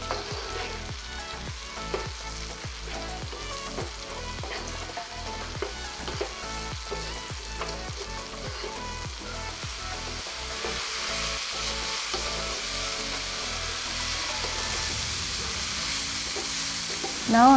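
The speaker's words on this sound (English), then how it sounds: "Now the garlic and onion saute well. I'm adding mushroom." Garlic, onion and mushroom sauté in olive oil in a home kitchen, a steady close sizzle under repeated spatula scrapes and stirring knocks, with the frying hiss swelling louder toward the end.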